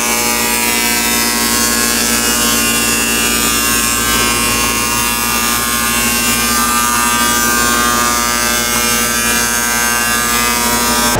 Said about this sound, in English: So that is a thermal fog machine.